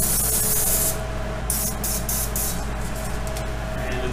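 Aerosol can of anti-spatter spray, nearly empty, spraying a steady loud hiss before welding a Ford Sterling 10.5 truss, then sputtering and breaking into short bursts as the can runs out.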